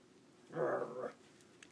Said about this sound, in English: I like it when he starts barking.